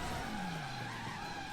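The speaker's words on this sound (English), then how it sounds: "But a lot of times you'll get this kind of spin out effect" Tires skid and squeal as a car spins out in the driving game Driver San Francisco, a long continuous screech with a falling pitch over steady engine noise and no voices.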